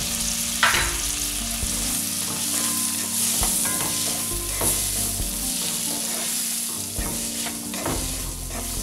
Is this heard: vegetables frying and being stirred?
yes